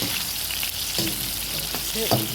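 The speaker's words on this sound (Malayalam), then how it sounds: "ഇത് അതേമാതിരി വറുത്തെടുക്കണം ഒന്ന് പൊരിഞ്ഞ് കിട്ടിയാൽ മതി" Mango pieces sizzle and crackle in hot oil, a continuous frying hiss with occasional scraping stirs, close up and without talk.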